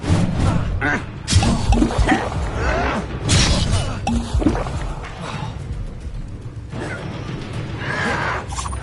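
Expelliarmus spell casting in the video game Hogwarts Legacy during a duel, heard as bright magical bursts with shattering cracks, thuds and whooshes amid ongoing combat noise and voices.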